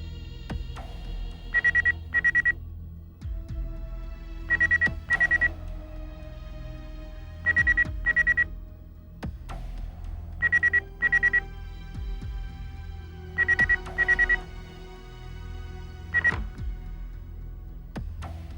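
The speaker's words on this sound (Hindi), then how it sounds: "फोन उठाइए।" A telephone ringing in repeated double electronic trills, evenly spaced about every three seconds, clear over a low hum.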